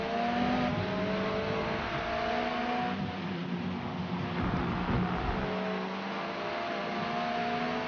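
An MG6 in the Forza racing game, driving in rain, accelerates at full throttle: a continuous engine drone with rising harmonic tones as it pulls through the gears, steady and fairly quiet, with no voices.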